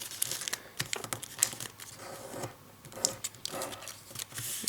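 Origami paper folded by hand into an intermediate push-button model, giving soft, close crinkles and crisp creasing rustles in quick irregular bursts, with no talk.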